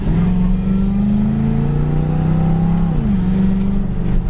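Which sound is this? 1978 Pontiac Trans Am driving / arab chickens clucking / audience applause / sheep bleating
1978 Pontiac Trans Am driving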